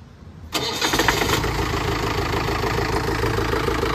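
A Mahindra open jeep's older DI diesel engine cranks and catches about half a second in, then settles into a steady, loud, clattering idle that runs to the end with no talking.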